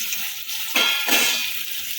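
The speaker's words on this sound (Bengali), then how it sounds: "এখন এই আলুগুলোকে দিয়ে দেবো আলুগুলোকে আমি ভেজে নেব" Potatoes dropped into hot oil for Kashmiri dum aloo, setting off two quick, loud bursts of sizzling close by over a low background hiss.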